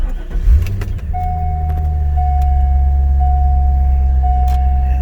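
A Corvette C5's V8 cranks briefly and catches, then settles into a smooth, steady idle heard up close, with a faint whine running over the engine note.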